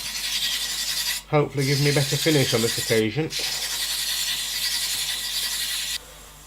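A continuous raspy rubbing of sandpaper wet with mineral oil against wood spinning on a lathe, steady and close, with someone speaking briefly over it before it stops.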